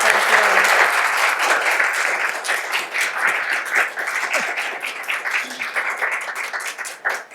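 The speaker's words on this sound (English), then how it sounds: "I think we should give them a round of applause." A round of applause from the audience at a talk on food and brain chemistry, loud and dense at first, then thinning into scattered claps as it fades.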